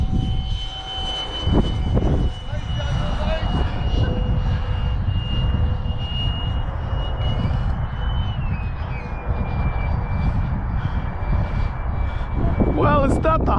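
A BD5 70mm electric ducted fan RC jet on its maiden flight gives a steady whining roar that shifts in pitch as it passes, with people talking over it outdoors.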